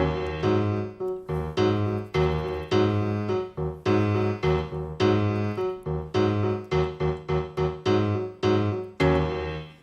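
A MIDI file played on a sampled Steinway piano: chords and notes in a steady rhythm, each strike ringing out and decaying, full and close with no voices.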